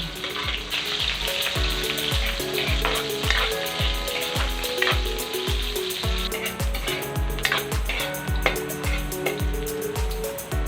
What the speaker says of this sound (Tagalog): Mag-add ako ng cooking oil. Isama ko na yung ating luya, sibuyas, and bawang.